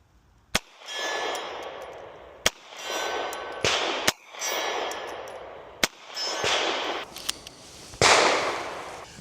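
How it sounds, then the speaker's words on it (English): Five .380 micro pistol shots fired at a steel target 50 yards away, each a sharp crack followed by a long ringing metallic echo, spaced about one to two seconds apart outdoors. "I want to see if we can get a shot down at the steel."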